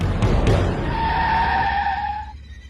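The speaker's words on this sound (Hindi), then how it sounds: "वह घबराकर तुरंत अपनी गाड़ी में जोर से ब्रेक लगा देता है, जिससे गाड़ी अचानक रुक जाती है।" A car brakes hard and skids to a sudden stop, a loud close tire squeal holding a steady screech for about two seconds before fading out.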